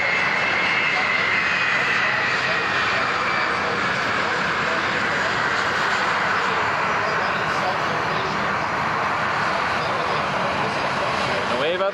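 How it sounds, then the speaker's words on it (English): A WestJet 737 and a C-17 Globemaster pass overhead at an airshow in London, Ontario, giving a continuous loud jet roar that stays steady throughout, with no break. "Two things you don't often see near each other. A WestJet 737 and a C-17 Globemaster."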